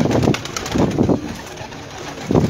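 Large pigeons coo in a few low, rounded bursts at close range, with pauses between calls and no talk.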